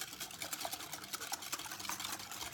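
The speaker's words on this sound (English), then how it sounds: "I'm just going to give it a whisk." Milk whisked into a bacon ranch pasta salad dressing of sour cream, mayonnaise and lemon juice in a bowl: a steady, quiet swishing and scraping that runs throughout.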